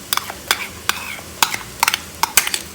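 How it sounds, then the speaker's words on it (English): Ginger garlic paste is stirred into frying onions in a pan for kharda chicken, giving several sharp scraping stirs and clinks over a low sizzle, close and fairly loud. "So to this I'm going to add about 5 teaspoons of ginger garlic paste now."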